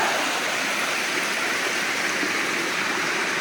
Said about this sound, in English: So we got the stream coming up through the mountains.